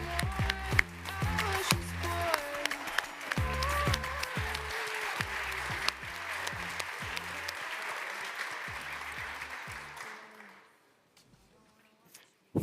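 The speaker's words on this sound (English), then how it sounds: "please give a warm applause to Zeitgeist and CodeQ" Audience at a conference center stage claps steadily for about ten seconds, a dense continuous round of applause with a few cheers, then dying away into near silence.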